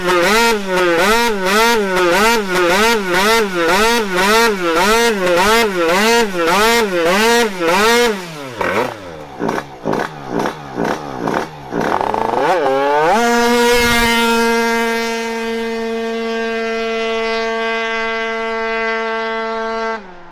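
A motorcycle engine revs hard in rhythmic pulses during a first competition run in Holland, then drops through shifting revs before settling into a steady, loud drone that slowly fades.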